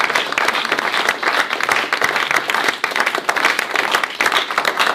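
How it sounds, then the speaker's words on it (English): An audience bursts into sustained applause, dense steady clapping from many hands filling the room without a break for several seconds. "Let's give her a big round of applause."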